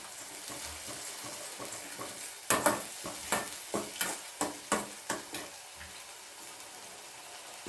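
Garlic sautés in a pan under a faint, steady sizzle. Midway, a spatula strikes and scrapes the pan in a quick, regular run of about a dozen crisp strokes, then the sizzle settles back.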